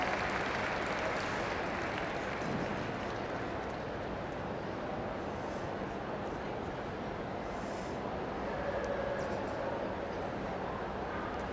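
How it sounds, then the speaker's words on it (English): An audience at the Crufts dog show rally ring applauds in a steady, sustained patter of clapping across a large hall, moderately loud and continuous. "Let's have a nice round of applause there."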